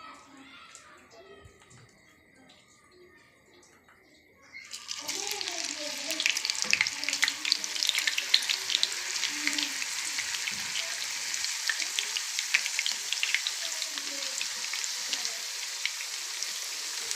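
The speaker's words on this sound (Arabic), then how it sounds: "في طاسة على النار هكون مسخنة زيت، هحمرهم عادي، هحمرهم زي البطاطس المحمرة العادية" Potatoes dropped into hot oil in a frying pan on the stove, a quiet start giving way to a sudden loud, continuous crackling sizzle that holds steady, close by.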